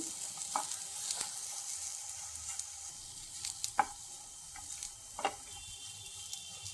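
Dates sautéing in ghee for a pudding: a quiet, steady sizzle with occasional soft stirring scrapes and a few light pops, close by.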